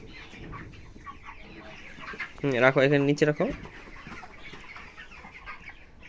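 Chickens on a poultry farm, among them a sick, lame hen, cluck steadily in the background while a person speaks briefly over them.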